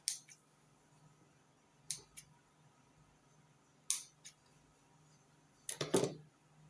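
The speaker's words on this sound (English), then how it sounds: "Take your scissors." Scissors snip fabric while cutting an under-bust corset with drape, giving a few short, crisp clicks in small clusters spaced a couple of seconds apart, close and fairly quiet over a low steady hum.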